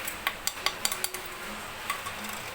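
A metal spoon clinks repeatedly against a bowl while rice flour is scooped in, a run of light, sharp taps close by in a quiet home kitchen.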